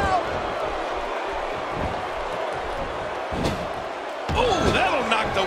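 A wrestler is slammed onto the mat in the WWE 2K16 video game during an NXT championship fatal four-way match, landing as a sharp thud over steady arena crowd noise with commentary.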